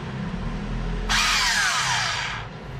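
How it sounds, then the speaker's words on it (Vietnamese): A Panasonic 100V electric screwdriver with automatic torque cutoff spins up for about a second and a half. It gives a close, loud motor whir with a faint squealing whine that slides downward before it winds down. "Của Panasonic luôn, vít điện 100V nha, có tự ngắt lực luôn."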